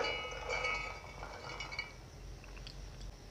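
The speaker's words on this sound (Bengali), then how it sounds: "এবারে ঢাকা দিয়ে দিব" A metal lid is set onto a pot of simmering potato curry, giving a light clink and a few small rattles near the start, then quiet bubbling and faint kitchen sounds at moderate volume.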